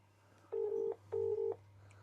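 Phone ringback on an outgoing call: two clean, evenly spaced double-pulse rings, clear and close, over a faint steady hum with no talk.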